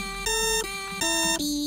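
An alarm in the rhythm game Friday Night Funkin, a loud electronic tone that repeatedly alternates between two pitches in blocks of roughly a third of a second, harsh and continuous with no voices.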